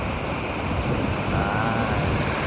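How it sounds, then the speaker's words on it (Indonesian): Ocean surf rolls in at Kuta beach, Bali, as a dense, steady roar of breaking waves with wind rushing across the microphone, loud and continuous with no distinct individual crashes and no voices. "belakang pasar ombaknya bagus, bagus dan bagus"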